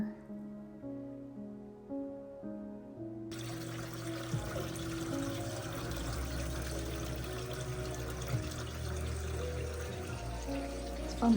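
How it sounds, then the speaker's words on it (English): Decorative water fountains run inside a shop as a steady splashing trickle. Soft background rock music plays over the water, alone for the first few seconds and then mixed with it. "It's fun to see these water features in the store."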